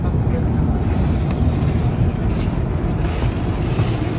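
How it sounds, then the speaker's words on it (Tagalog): High-pressure washer water spraying a 2024 Hyundai Santa Fe XRT, a loud, steady, roaring hiss that runs without a break and lasts the whole time. "Lakas ng pressure ng water."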